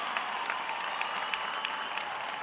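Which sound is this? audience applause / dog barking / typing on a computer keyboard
audience applause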